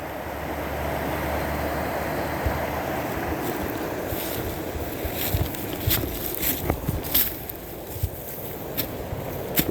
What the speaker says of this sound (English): You know, the mini waterfall.